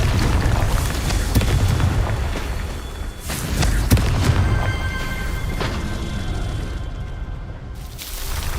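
Confringo blasting spell explosions in the game Hogwarts Legacy, several booming bursts with crackling tails over a low rumbling bed, one louder blast about midway.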